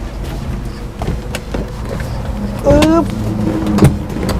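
The rear seat of a 2006 Suzuki APV 1.6 GLX van being folded, giving a few clunks and a short creaking, squeaky movement near the end, close by, with someone talking throughout.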